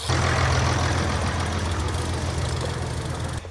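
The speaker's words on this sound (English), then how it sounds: "We're going to get killed by a tractor." A tractor engine rumbles loudly and close on a paved country road, a steady low chugging drone that holds for a few seconds, then cuts off abruptly.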